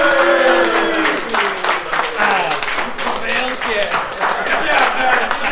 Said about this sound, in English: Everybody really claps and Peter stops talking.